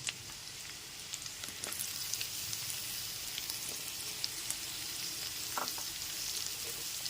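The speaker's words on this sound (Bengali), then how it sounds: "বিনস কুচিগুলো একটু নাড়াচাড়া করে নিচ্ছি" Chopped carrots and beans fry in a pan for egg chow mein, a steady close sizzle with soft scraping and stirring knocks throughout, no voices over it.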